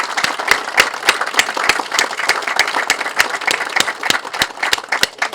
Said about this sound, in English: But I wanted to give Peter Shaphock a round of applause for his past service to the Friends and what he'll do in the future.